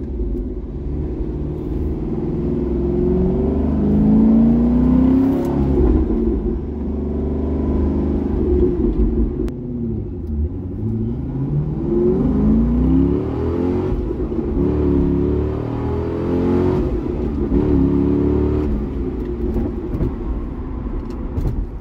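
A C6 Corvette on a spring test drive with an anti-venom shifter mod, its engine rumbling steadily from inside the car and rising and falling through repeated accelerations and gear changes, with no talking.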